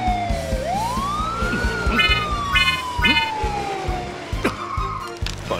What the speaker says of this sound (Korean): 소방차 출동!